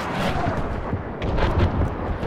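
Artillery shells burst along a trench line in a Warband mod battle, a dense, continuous rumble of booming explosions and crackling blasts rolling on for a couple of seconds.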